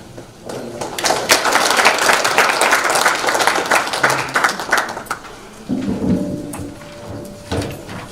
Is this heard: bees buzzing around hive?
no